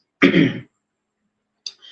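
A single sharp, loud cough burst from a person, followed by a second quieter, shorter cough-like sound after a pause, in an otherwise silent room.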